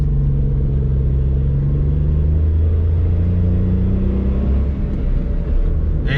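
A Suzuki Alto car moves off after being put in gear, its engine giving a steady, loud, close rumble that holds throughout with a slight rise in pitch, and no talking.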